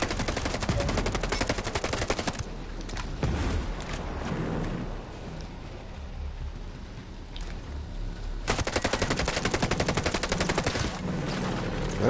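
Video game gunfire rattles in rapid automatic bursts, loud and close, pausing midway under a quieter rumble before resuming in dense repeated shots near the end.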